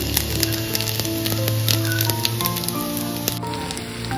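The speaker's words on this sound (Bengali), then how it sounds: "ভাজা পিঠেটা বানাচ্ছি এখন।" Pitha rice cakes frying in hot oil give a dense, steady sizzle and crackle with scattered pops, close and continuous, under faint background tones.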